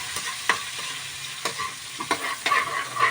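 Garlic, ginger and onion sizzle in hot oil in a pan while being browned for tilapia sarciado, a steady close frying hiss broken by scraping stirs of a utensil.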